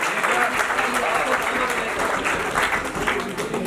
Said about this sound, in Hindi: भरपूर तालियां वासिक के लिए।